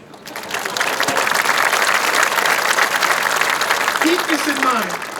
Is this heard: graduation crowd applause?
yes